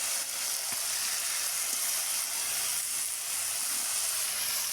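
Potatoes frying in a pan over a clay stove, a steady close sizzle and hiss that holds at an even level throughout with no talking.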